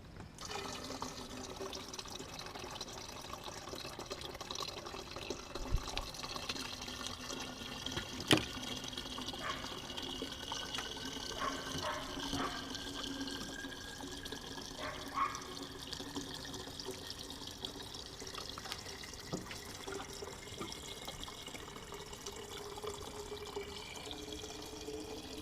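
Distilled water pours steadily into the coolant degas bottle of a 2001 Ford 7.3 diesel Super Duty truck, a continuous faint trickling and filling sound with occasional drips, no talking.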